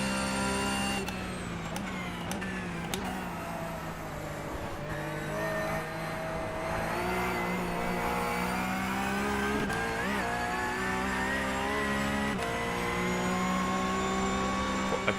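Race car engine in the iRacing sim game drones steadily throughout, its pitch climbing and shifting as it accelerates, loud and continuous with a few brief clicks along the way.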